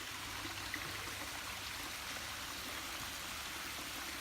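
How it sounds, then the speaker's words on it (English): A natural stream and small waterfall flowing beside a lounge area at a rainforest spa on Sugar Beach, Saint Lucia, giving a steady, even wash of water that stays level and moderately quiet throughout, with no voices. "And that is a natural stream, waterfall that you're seeing and hearing."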